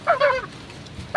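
A hen that has just laid an egg cackles loudly in two quick, harsh squawking bursts, then goes quiet before another call begins at the end.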